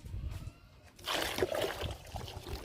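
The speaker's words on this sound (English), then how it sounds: "so I can mix my water now" Water mixed with sulfonic acid while preparing a tile wash for stubborn stains, heard as sloshing and trickling liquid that swells after the first second and continues moderately loud.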